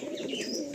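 Pigeons cooing close by in a loft of birds kept for sale, a soft steady warble with faint higher chirps layered over it.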